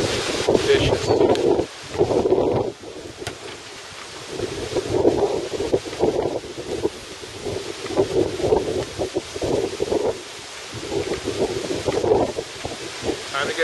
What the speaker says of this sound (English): We're getting lashed by the storm